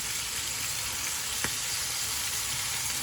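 Chicken livers sizzling and frying in a pan, a steady bright hiss with one small pop partway through, close and continuous with no talk.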